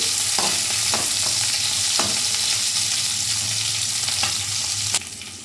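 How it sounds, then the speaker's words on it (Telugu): Onions and green chillies fry in oil with whole garam masala, a steady close sizzle broken by a few sharp scraping stirs, ending with a louder clatter. "హోల్ గరం మసాలా వేసుకొని ఉల్లిపాయలు, పచ్చిమిర్చి వేసుకొని వేపుకోవాలి. బాగా ఫ్రై చేసుకోవాలి."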